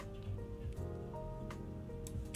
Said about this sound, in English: It's been raining for like 3 freaking days.